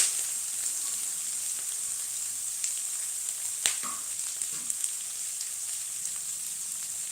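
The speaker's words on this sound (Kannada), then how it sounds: "ಈಗ ನಾವು ಇದಕ್ಕೆ ಕರ್ಬೇವಿನ ಸೊಪ್ಪು ಮತ್ತು ಈರುಳ್ಳಿ ಎರಡು ಕೂಡ ಹಾಕೊಳ್ತಿದ್ದೀನಿ" Curry leaves and onion frying in hot oil for chitranna, a steady close sizzle running throughout with a few sharper crackles and pops breaking through.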